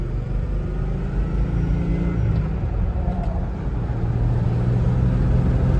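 A 1996 Ford F-150 pickup with a 4.9 inline-six and a five-speed manual accelerates, its low engine rumble growing steadily under heavy road noise, heard from inside the cab with no talk.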